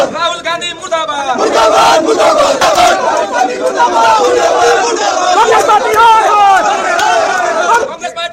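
BJP workers protesting against the Congress party and Rahul Gandhi chant slogans in a loud, dense crowd, with overlapping shouting voices sustained throughout and brief dips near the start and end.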